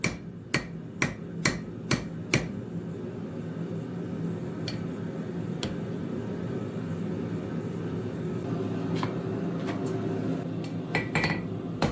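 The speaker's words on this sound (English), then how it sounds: "and then we'll go ahead and do a hot cut" A hammer strikes a hot cut tool set in an anvil's hardy hole to cut rebar for a forged door handle, with six sharp ringing blows in quick succession followed by a few sparser, fainter taps.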